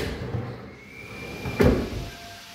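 A drawer in the base of a modular cabinet below a vanity slides and bumps shut once in a single brief, soft knock over quiet room tone.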